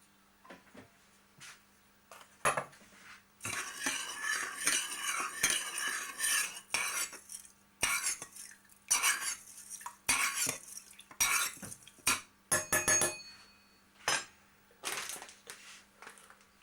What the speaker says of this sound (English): Just give it a stir round.